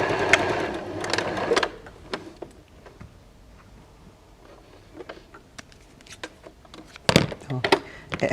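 A sewing machine stitches a patchwork seam in hexagon fabric pieces with a normal seam allowance, giving close bursts of rapid mechanical whirring separated by pauses and softer handling clicks.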